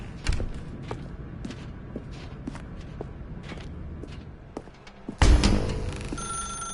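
Telephone ringing inside the video game The Stanley Parable, repeated short bell-like rings over soft thuds and footsteps in a dim room, then a sudden loud burst near the end.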